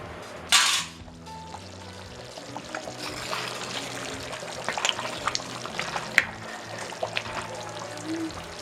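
Mutton curry with coconut simmers in a pot: a short splashy burst at the start, then soft, scattered bubbling pops and sizzles close by, with no talk over them.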